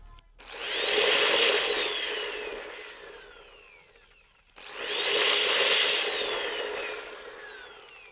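A wall sanding machine with soft start spins up gently twice, its whine rising gradually to full speed then easing off, with a brief gap between runs.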